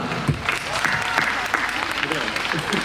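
Warm audience applause at a Polish municipal anniversary celebration in Wieliszew as an official is announced, loud and continuous clapping with a few sharper claps, some voices mixed in among the crowd.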